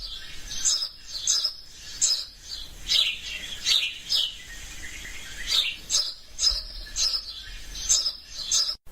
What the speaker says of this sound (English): it's the house sparrow that we're listening to